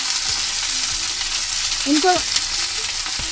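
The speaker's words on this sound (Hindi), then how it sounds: "1 मिनट तक इसको सॉटे कर लीजिए" Coriander and mint leaves sauté in a hot pan for biryani rice, a steady close sizzle with soft stirring scrapes and a brief spoken word over it.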